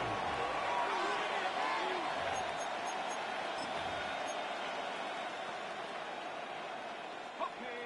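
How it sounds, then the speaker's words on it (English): A football stadium crowd in an Atlanta at Carolina game builds into a steady, distant roar ahead of third down, a continuous wash of noise that fades slightly toward the end. "This crowd into it now as we get to 3rd down."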